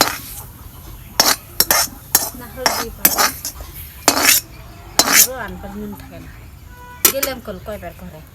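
A metal spoon clinks and scrapes against a pot while greens are stirred, giving sharp, loud, irregular strikes at close range, with people talking in between.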